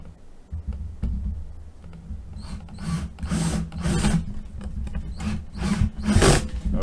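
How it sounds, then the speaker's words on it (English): Power drill boring a pilot hole in wood for a coat rack, bursts of whirring that start and stop several times, close and moderately loud. "Now I drill my pilot hole."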